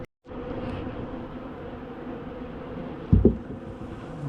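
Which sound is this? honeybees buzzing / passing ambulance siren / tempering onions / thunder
honeybees buzzing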